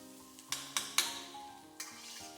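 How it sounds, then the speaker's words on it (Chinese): Chopped green peppers stir-fried in a wok over dried chilies, Sichuan peppercorns, ginger and garlic make a soft sizzle, broken by several sharp metallic clacks of the spatula against the wok at irregular intervals. "放入切好的青碎椒，翻炒30秒，炒至断生。"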